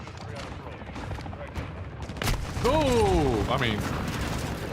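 Video game sniper rifle shots crack out as rapid gunfire and booms over steady background noise, with a person talking briefly and a whooshing sweep near the end.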